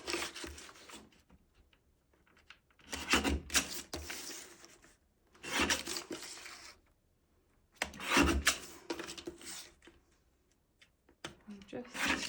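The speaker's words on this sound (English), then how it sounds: "I'm going to bring in my guillotine and we're just going to trim around this." A paper guillotine trims around stamped card, giving three or four short scraping, rasping slices separated by quiet pauses, close and moderately loud.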